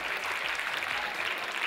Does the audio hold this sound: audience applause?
yes